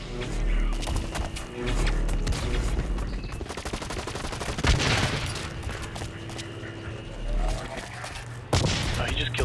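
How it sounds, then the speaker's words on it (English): Rapid assault rifle gunfire and bursts in a video game crackle and boom throughout, with players talking over the shooting. "Nope, just an assault rifle."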